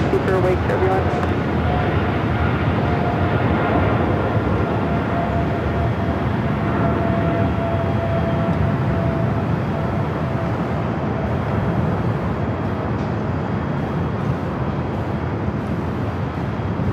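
A Qantas Airbus A380 superjumbo arriving from Sydney at Los Angeles International Airport produces a steady, loud, broadband jet roar throughout, with no distinct peaks, heard from close range.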